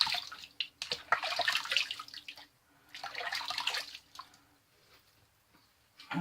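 Tap water runs in bursts while a razor and face are rinsed during a wet shave with a Merkur 34C safety razor, two splashing stretches with quieter dripping between, close and fairly soft, no talking.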